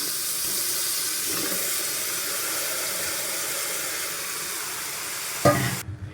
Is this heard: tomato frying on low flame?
yes